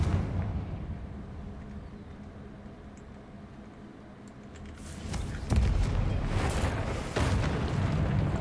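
A Confringo blast spell goes off in Hogwarts Legacy: a low rumble builds, then a loud explosive burst lands midway, followed by a second crackling impact and lingering roar.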